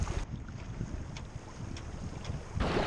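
Inflatable raft carrying two people, pushed by a 360-watt electric motor at full throttle on a bay of Lake Ontario. Steady water rush and hull noise are mixed with heavy wind buffeting, which swells near the end.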